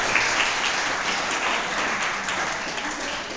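An audience at a mathematics teaching symposium gives a steady round of applause, dense and even clapping throughout with no speech over it.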